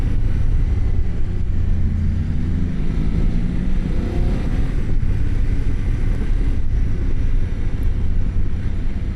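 A BMW F900 GS motorcycle ridden in Dynamic mode, its engine a loud steady low roar mixed with heavy wind rush, with a brief rising pitch partway through.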